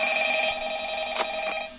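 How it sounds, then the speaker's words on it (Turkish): A telephone rings in the Five Nights at Freddy's video game, a steady electronic ringing tone that holds for nearly two seconds, loud and alone with no talking over it. "Aç şu telefonu."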